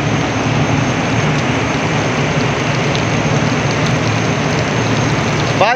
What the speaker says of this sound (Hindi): ओहो बारिश बहुत तेज़ हो गई